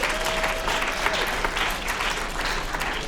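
Steady applause from a school writers-week audience for the tech crew, a dense, even wash of many hands clapping continuously throughout, moderately distant with no talking.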